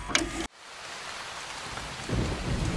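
Rain and thunder from a thunderstorm in the Appalachia wasteland of the game Fallout 76: a sharp crack of thunder opens, then steady rain hisses on the ground, with a low rumble swelling near the end.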